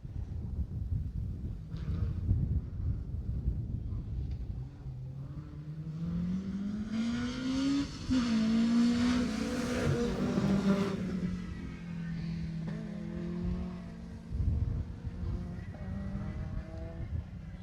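Rally car on a closed stage at the Jersey Rally, its engine rising and falling as it approaches and passes, with rising revs and gear changes building to a loud pass around the middle, then fading away over background rumble.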